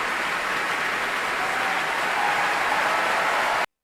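A cheer sound effect played to applaud a violinist's Britten Violin Concerto performance: steady, dense clapping and crowd noise filling nearly four seconds at an even level, then cutting off abruptly.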